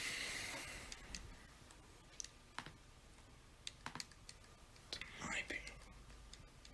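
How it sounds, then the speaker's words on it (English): Someone types on a computer keyboard in sparse, uneven bursts of close clicks with quiet gaps between them, over a soft background hiss. "Typing."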